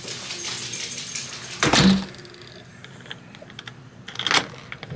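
A dog barks behind a door, giving one loud nearby burst and then a second bark a little later. Faint clicks and metallic handling of a Kwikset SmartKey lock fill the gaps between the barks.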